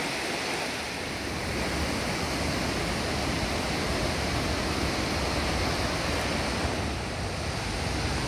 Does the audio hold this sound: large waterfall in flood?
yes